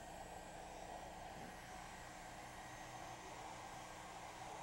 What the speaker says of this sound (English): we can do the same thing with a hairdryer and a balloon